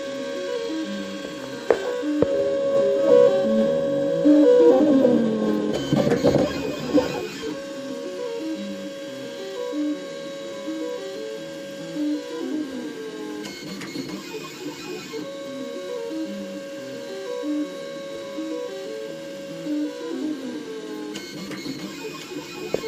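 A MakerBot 3D printer runs nearby, its stepper motors buzzing and warbling in shifting tonal patterns, with louder clattering bursts early on and quieter stretches of rhythmic motor tones afterward.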